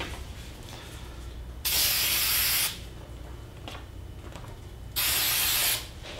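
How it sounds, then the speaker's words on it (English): Aerosol spray can hissing onto a woodworking surface before a scroll saw pattern is applied, two short bursts of close, loud spray about a second each, separated by quiet room tone. "and give it a little spray here."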